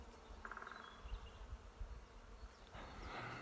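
Bees buzz close by around hollow-log hives, a droning hum rising and fading as they fly past the microphone, with a louder rush of noise near the end.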